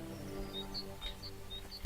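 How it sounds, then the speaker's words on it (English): Small birds at a nest in the video game Kingdom Come: Deliverance 2 give a quick series of faint, high chirps over a soft, steady ambient hum. "I hear a bird's nest. There's a bird's nest right there."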